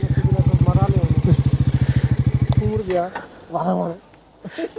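A motorcycle idles close by on a rural road in Rishing, Tanahun, Nepal, with a loud, evenly pulsing engine thump for about three seconds before it cuts out, followed by people talking.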